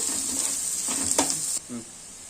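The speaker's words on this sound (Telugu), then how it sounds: "పచ్చిమిర్చి వేసాను, అలాగే ఉల్లిపాయలు వేసాను. ఇప్పుడైతే మనం దోరగా వేపుకుందాము" Green chillies and onions fry in hot oil in a pan for a brinjal curry, giving a steady close sizzle with faint stirring scrapes. The hiss drops off abruptly near the end.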